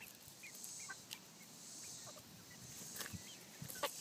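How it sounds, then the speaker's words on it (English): Backyard chickens give faint, scattered clucks and short calls over a quiet hiss of outdoor background noise, a few soft bursts spread through the few seconds with no speech. "See, you got chickens doing chicken things."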